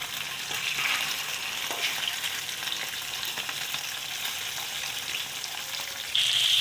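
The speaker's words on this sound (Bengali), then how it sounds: "দেখো লাল লাল করে মাছটা 1 পিঠ ভাজা হয়ে গেছে" Thick pieces of rohu fish fry in a pan of oil, giving a continuous, even sizzle with a bright crackling hiss. It stays close and steady throughout with no talking, and a short louder burst comes near the end.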